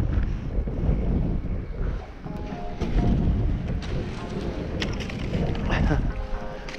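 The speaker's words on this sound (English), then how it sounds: "Oh, it's windy." Wind buffets a microphone in steady, rumbling gusts, with faint speech mixed in underneath.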